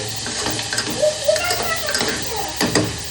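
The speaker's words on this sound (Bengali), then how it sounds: "হ্যাঁ আমি রান্না করছি" Meat cooks in a pan in a home kitchen, with a soft sizzle under stirring and light clinks of a utensil against the pan. A voice speaks faintly nearby.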